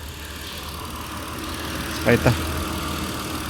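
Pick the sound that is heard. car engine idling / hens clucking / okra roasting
car engine idling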